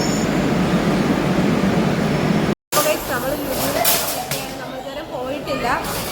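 Riding inside a Kochi Metro train, a continuous rumbling hum of the moving carriage is heard with voices around it. A brief cut to silence is followed by shifting rushing noise.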